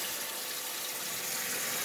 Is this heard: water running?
yes